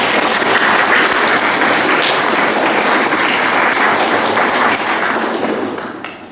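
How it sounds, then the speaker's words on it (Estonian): Over a hundred high school students applaud together in a school assembly hall, a dense, steady wash of clapping lasting several seconds before tapering off at the end. "Palun tehke endale üks suur aplaus."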